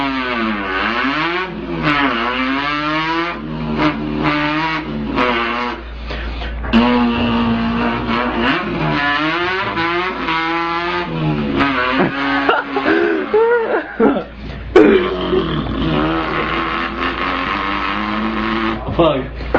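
A person mimics a revving car engine with the voice, producing rising and falling throaty revs and gear-shift sweeps in repeated bursts, loud and close, with brief talk between.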